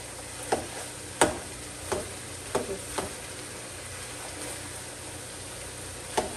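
Meat for spaghetti sizzles steadily in a pan, with a constant frying hiss broken by several sharp utensil taps and scrapes as it is stirred.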